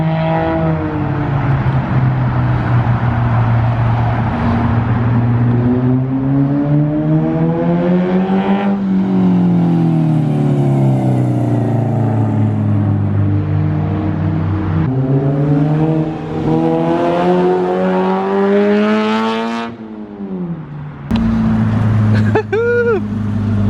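A Toyota AE86 project car with a Beams engine drives on the street, its engine revving and pulling through rising and falling gear sweeps, loud and close. A brief pause comes before it accelerates again.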